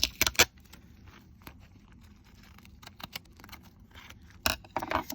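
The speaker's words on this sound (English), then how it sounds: "I'm just going to cut this away and pull up my packing tape" Strips of packing tape peeled up from a surface during a DIY washi tape craft, heard as quick crackly ripping bursts at the start and end with softer scattered crinkles between.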